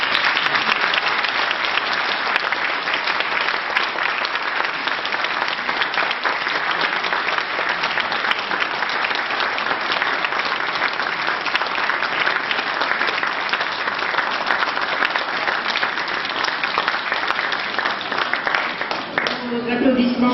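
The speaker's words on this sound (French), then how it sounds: "Applaudissements chaleureux à l'égard de Constant." Warm, sustained applause from an audience at a Lions Club eloquence contest, a dense, even roar of many hands clapping that holds steady and loud for the whole stretch.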